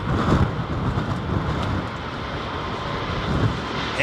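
An Airbus A350-1000 with tri-axle main gear rolls at Heathrow on a reduced-thrust departure, its engines giving a loud, broad, steady roar that swells slightly and holds with no voices over it.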